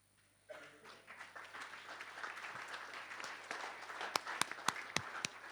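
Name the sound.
audience applause at conference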